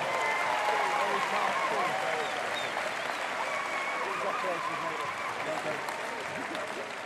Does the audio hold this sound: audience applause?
yes